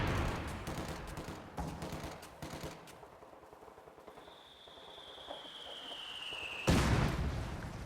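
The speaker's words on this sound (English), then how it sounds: "He launched the coordinated barrage right here." Coordinated artillery barrage in Company of Heroes 2, distant thuds and rattling gunfire fading into a lull, a high whistling shell descending, then a loud blast near the end.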